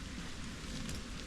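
Rain falls steadily during a hike through Storm Floris, a dense, even hiss of drops on the surroundings, close and continuous with no voices.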